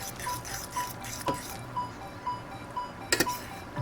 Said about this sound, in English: And you just stir like crazy.